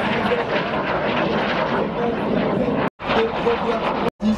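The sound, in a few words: military jet aircraft flying at an air show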